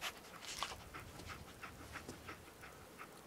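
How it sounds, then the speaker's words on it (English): Dogmeat, the canine companion in the Fallout 4 video game, pants steadily in quick soft breaths, close but faint, with no talk over it. "Ah, the dog. That's ever so useful. Dog meat."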